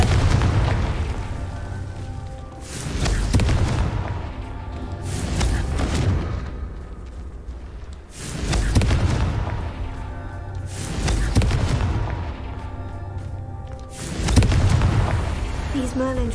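Repeated booming spell blasts in a wizarding video game's Merlin trials, about five heavy thuds spaced a few seconds apart, each with a rumbling decay, under occasional speech.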